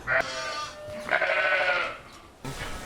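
Lowland sheep on lush pasture bleat close by, two loud calls, the second longer and wavering, with a third starting at the end.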